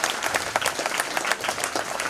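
Loud, dense applause from an audience welcoming guests at a Bank of Baroda retired officers' association gathering in Udaipur, many hands clapping steadily close by for about two seconds with no talk over it.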